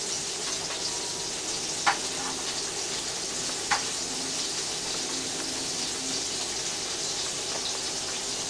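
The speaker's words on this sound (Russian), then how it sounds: "Жарит рыбу." Fish frying in a pan makes a steady, dense sizzle that runs the whole time, with a couple of brief clinks or pops standing out; no one speaks.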